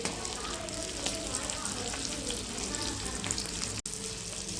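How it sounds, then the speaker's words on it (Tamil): Fish frying in hot oil gives a continuous dense sizzle and crackle close by, with occasional stirring noises and a brief dropout near the end. "இப்போ இந்த மீன் வந்து வறுக்க வேண்டியது"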